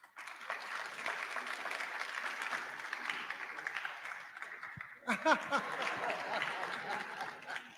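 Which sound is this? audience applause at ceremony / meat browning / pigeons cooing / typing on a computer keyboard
audience applause at ceremony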